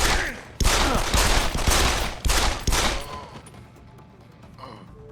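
Sustained burst of automatic gunfire from the video game Deus Ex: Human Revolution, loud and dense for about two seconds, a short pause, then another rapid burst before fading into quieter ambient game sound.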